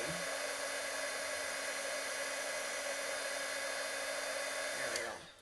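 A heat gun blows a steady, whining stream of hot air to melt embossing powder for a card, holding a constant tone until it cuts off near the end.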